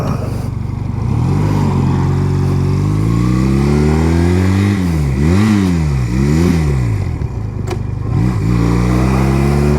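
A Honda Rebel 250 motorcycle that sat unused for 11 years, its engine running steadily while ridden, with clear revving rising and falling across several throttle changes and a brief gear shift, loud and close throughout.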